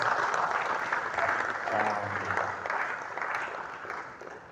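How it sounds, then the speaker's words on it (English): An audience gives a round of applause at a business talk, steady, even clapping from a room full of people that holds for a few seconds and then slowly fades. "let's give her a round of applause"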